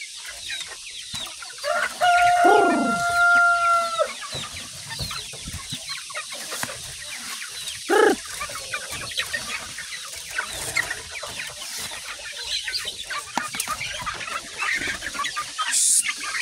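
Native chickens cluck and a rooster crows loudly on a farm, one prominent nearby crow early on and another shorter call later, with scattered clucking and other bird calls throughout.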